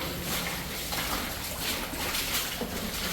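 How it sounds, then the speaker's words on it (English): Constant broadband roar of an underground waterfall inside an abandoned mine, a steady rushing wash with no clear breaks, heard from a short distance. "It's a hell of a noise of water."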